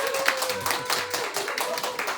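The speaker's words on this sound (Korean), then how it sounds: "벌써 박수가 나오네요" Applause from a church congregation celebrating a member's good news: dense, steady clapping from many hands filling the room, sustained and fairly loud throughout with no talk over it.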